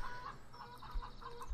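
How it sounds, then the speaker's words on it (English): Chickens clucking in the Farming Simulator 2013 video game, a short run of soft, rhythmic clucks heard faintly and alone. "If you don't like the sound of the chickens, but you still want to do the eggs"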